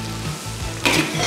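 Chopped onion sizzles steadily in a hot pan as the base for a braised beef shank sauce, a close, continuous frying hiss that swells briefly louder midway, with no talk.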